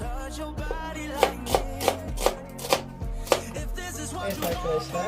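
Knife chopping onions on a cutting board, a steady series of sharp, close thuds roughly every half second, with faint kitchen background and no talk.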